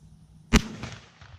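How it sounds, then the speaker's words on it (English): A single sharp, loud shotgun blast fired at a pattern test target, a sudden crack followed by a short fading echo, alone with no voices. "you should see us come down here and see the shot hitting"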